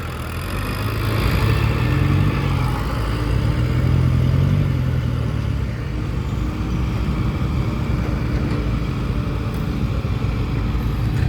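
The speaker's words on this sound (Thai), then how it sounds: "รถไถต้องคอยเซฟทางตลอดนะครับเนี่ย" A tractor engine runs on a deep, slippery muddy road, a continuous low rumbling drone that stays steady and loud for about eleven seconds without a break.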